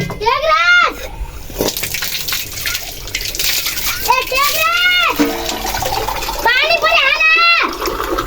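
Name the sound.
water being poured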